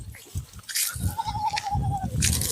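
A goat bleats in a single drawn-out cry at a goat and sheep farm in Beed, rising over a busy, noisy outdoor background with thumps and chatter-like murmur.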